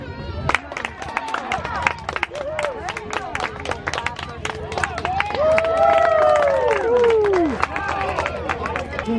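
At a kids' baseball game, spectators clap sharply in scattered bursts while voices shout and cheer, the cheering swelling louder midway; people talk throughout.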